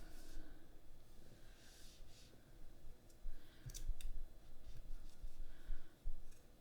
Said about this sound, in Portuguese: Agora vou dobrá-lo ao meio e vou cortar aqui.